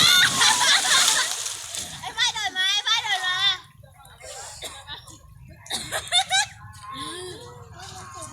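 Someone jumps into water with a loud splash and spray at the start, followed by sloshing, while people talk and laugh around it.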